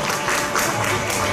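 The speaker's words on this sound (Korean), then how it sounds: "박수 부탁드립니다." A dense round of audience applause at a school-meals and climate conference in Gyeonggi, many hands clapping steadily and fairly close throughout.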